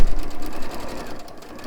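Sewing machine stitching the top and bottom of a fabric bag, a steady fast mechanical whir with rapid needle clatter running throughout, close and fairly loud.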